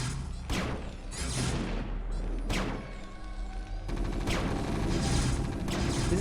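A siege tank in StarCraft fires heavy artillery in a dense, loud barrage of booming blasts and crashes, several sharp impacts layered over continuous battle noise.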